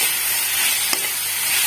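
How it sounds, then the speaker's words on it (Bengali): Grated bottle gourd sizzles in a pan for lau kheer, a steady close frying hiss with one brief stirring clink partway through. "লাউ কোড়াটা ভাজতে দেবো। হালকা ভাজা ভাজা করে নেবো এটা।"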